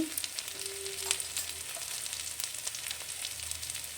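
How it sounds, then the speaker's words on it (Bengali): Ginger paste frying in a pan with tomato and onion for a village-style vegetable dal, giving a steady close hiss and crackle of sizzling oil with faint stirring, no voices. "এখন আদা বাটা দিয়েও ভেজে নিচ্ছি।"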